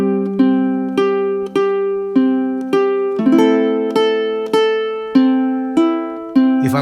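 A ʻukulele plays a song from the last note of measure 4 into measure 5, plucked notes ringing in an even, repeating ostinato pattern under the melody, close and clear with no voice.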